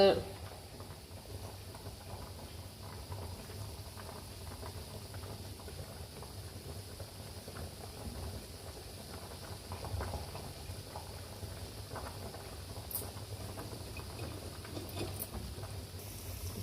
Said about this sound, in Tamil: கருப்பட்டி பொங்கலுக்கு பொங்கி வரப்போகுது அதுவும் நல்லா பொங்கிடுச்சு இதுவும் நல்லா கொதிச்சிட்டு இருக்கு